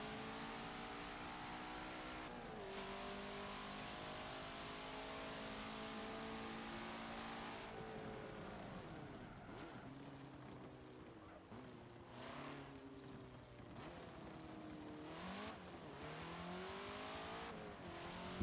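Nissan GTR race car engine in a Forza racing game at Circuit of the Americas, a sustained engine drone with rising and falling revs through shifts and slaloms, fairly faint and steady throughout.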